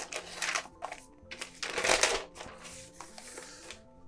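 A new 14-inch MacBook Pro M2 Pro being unwrapped: close crinkling and tearing of plastic wrap and packaging in irregular bursts, loudest in the middle, with no talk.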